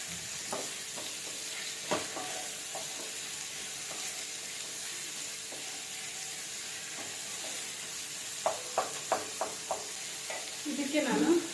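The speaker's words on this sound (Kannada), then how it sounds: "ಈರುಳ್ಳಿನ ಸ್ವಲ್ಪ ಹಸಿ ವಾಸನೆ ಹೋಗೋವರೆಗೂ ಫ್ರೈ ಮಾಡ್ಕೊಳ್ಳೋಣ." Onions frying in a pan for a potato and capsicum gravy give a steady soft sizzle, with intermittent scraping and stirring clicks of a spatula near the end, close and moderately quiet.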